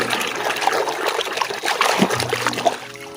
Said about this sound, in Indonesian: Sekarang kita kucek-kucek yang ini ya